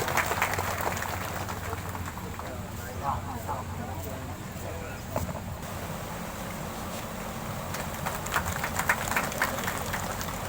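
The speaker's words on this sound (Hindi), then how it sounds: "इनका भी तालियों से स्वागत।" Steady applause from a crowd continues throughout, a dense wash of clapping that swells slightly toward the end.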